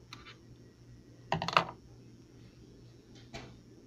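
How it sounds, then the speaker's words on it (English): A quick pair of crisp snipping clicks of scissors cutting tape sounds close by in a quiet room, followed moments later by a softer rustle. "then you're gonna cut it with the scissors"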